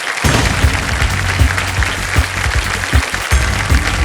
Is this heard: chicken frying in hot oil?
no